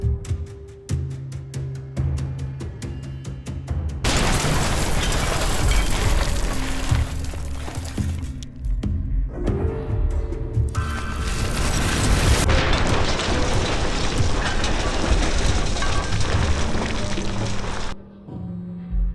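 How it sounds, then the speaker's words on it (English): A powerful dropped explosive detonates and destroys a building sheltering soldiers, producing heavy booming blasts followed by sustained loud roaring, crackling debris and rumble across most of the span, with no talk. "They dropped a powerful explosive. The explosion destroyed the building."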